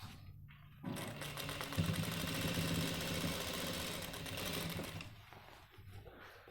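A sewing machine runs steadily for about four seconds, stitching a loop onto a pant waistband, loud and close, with brief quiet handling before and after.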